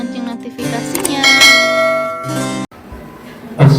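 A bright bell chime plays as a notification sound effect, ringing out in sustained, layered tones for a couple of seconds before cutting off, with another strike at the end.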